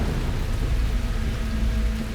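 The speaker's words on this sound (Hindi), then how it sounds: "वर्षा, ये तो अशुभ संकेत है।" Steady rain pours down with a low, continuous rumble of thunder underneath, an unbroken wash of storm noise without pauses and with no voices.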